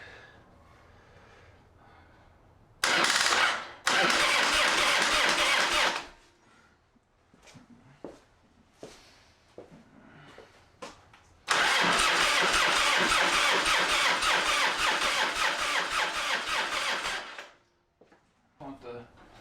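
A Harley-Davidson Dyna motorcycle engine cranks in two loud bursts, sputtering between them, then the second burst catches and runs roughly for several seconds before cutting out, with a voice speaking in the quiet gaps.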